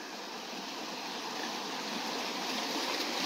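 Water pours over a small river dam, a soft, steady rushing flow heard at moderate distance with no voices.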